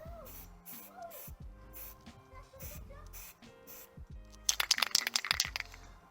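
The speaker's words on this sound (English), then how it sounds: "And also spraying in the same direction as the wind will help" Aerosol primer can spraying a plastic tabletop miniature outdoors, a dense hissing burst of spray arriving near the end after quieter musical background and light clatter.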